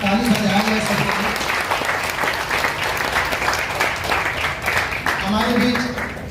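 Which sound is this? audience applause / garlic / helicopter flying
audience applause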